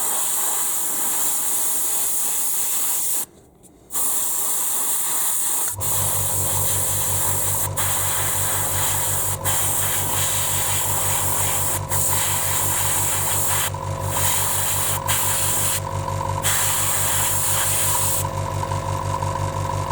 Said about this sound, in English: let's carry on airbrushing.